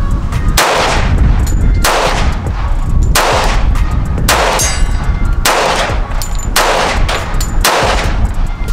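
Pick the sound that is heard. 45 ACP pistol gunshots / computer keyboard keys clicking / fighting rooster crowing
45 ACP pistol gunshots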